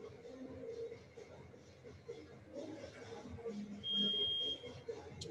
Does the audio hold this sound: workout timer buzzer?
yes